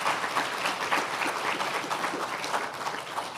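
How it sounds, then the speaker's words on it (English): An audience applauds three presenters after a talk on using AI in operations, with steady, dense clapping that fills the room throughout. "And again, another round of applause for all three of our presenters today."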